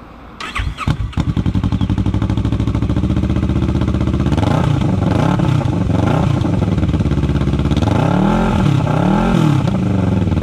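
A Kawasaki Vulcan S motorcycle with a Delkevic exhaust starts with a few sputters, then settles into a loud, steady idle with repeated throttle blips rising and falling, close by.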